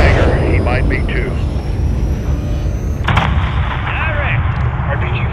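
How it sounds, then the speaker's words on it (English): Combat at a hangar in a Call of Duty game, with RPG and mortar fire rumbling as a steady low roar and a sharp blast near the middle, while soldiers speak over the din. "RPG fire coming from east of the hangar."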